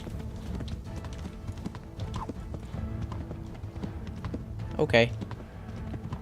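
In the video game Kingdom Come: Deliverance, horse hooves clip-clop in a steady galloping rhythm while riding on horseback, close and continuous, with a brief whinny-like burst near the end and someone speaking briefly.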